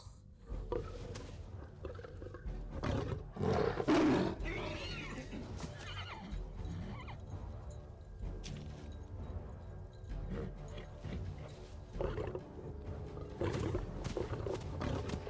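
A horse neighs and whinnies repeatedly, loud and close, with snorts and scuffling sounds between calls.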